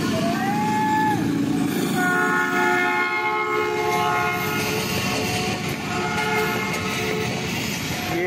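An express passenger train crosses the Ravi railway bridge at speed near Shahdra Bagh Junction, its horn sounding in long sustained tones over a steady loud rumble and rhythmic clatter of passing coaches throughout.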